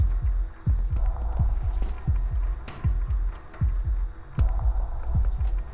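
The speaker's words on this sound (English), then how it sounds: "can hear the heartbeat." A heartbeat effect in a horror video game, a steady, loud, low double thump repeating about twice per second over a constant hum.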